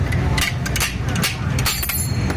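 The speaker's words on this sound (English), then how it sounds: "Get your slide hammer, screw it in there as fast as you can." Slide hammer pulling a main bearing cap from a Top Fuel drag racing engine: a series of sharp metallic clanks and clinks in quick, uneven succession, close and fairly loud over a low background hum.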